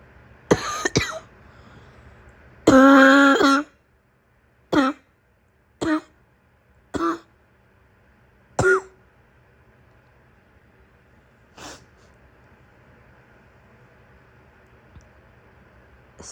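A sick woman with a morning cough clears her throat and coughs in separate bursts, one long rasping fit followed by several short single coughs spaced apart, close by in a quiet room.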